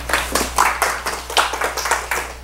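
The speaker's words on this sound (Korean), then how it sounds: "우리 박수로 선생님 맞이해 주시기 바랍니다" A small audience at a teachers' training session claps to welcome the instructor, a near, lively patter of hands with distinct individual claps over a low steady hum.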